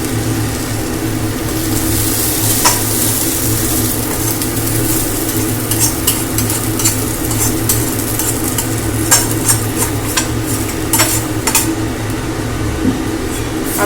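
Boiled potatoes are tipped into a pan of fried spices for a lentil and potato curry, giving a loud continuous sizzle with scraping spoon strokes and occasional clinks of metal against the pan.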